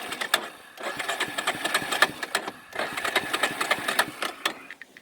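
A 1989 Yamaha Big Bear 350 ATV engine runs on half choke, a rapid uneven putter with loud close exhaust pulses that briefly drop and surge twice.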